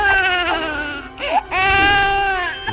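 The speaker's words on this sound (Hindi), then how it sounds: "ये तो बच्चों के रोने की आवाज है" Cartoon children crying in a haunted fort, a high wailing sob that is loud and near, broken by a short gap before a sustained wail resumes.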